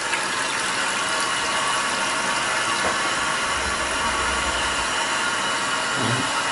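A toilet in a rental home, filthy and with a loose seat, fails to flush, giving a mechanical clunk from the handle followed by a steady hiss of running water at close range, with no talk.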